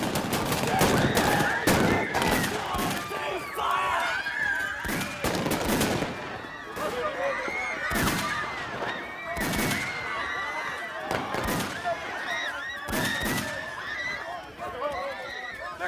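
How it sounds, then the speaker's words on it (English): Gunfire in a dramatized Bloody Sunday film scene, repeated sharp bursts of shots amid crowd commotion and horse sounds, with people shouting over the chaos throughout. "They're shooting people!"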